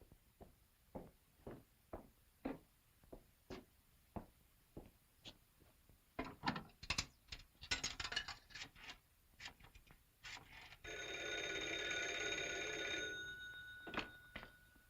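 Old rotary telephone from a 1943 setting being dialed, a series of quiet evenly spaced clicks followed by a louder ratcheting whir and a steady ringing tone, with faint clicks after.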